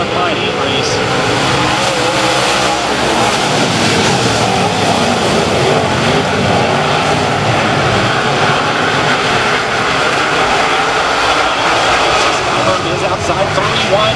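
USMTS modified race cars roar around turn four of Humboldt Speedway during a heat race, a constant loud engine din blended with crowd and track noise, while an announcer talks over it.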